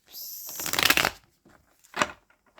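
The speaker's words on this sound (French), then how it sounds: "j'ai déjà pas mal mélangé les cartes. Je termine ici avec vous." Deck of cards being shuffled by hand at close range, a loud riffling burst followed by a shorter second riffle and a few faint taps.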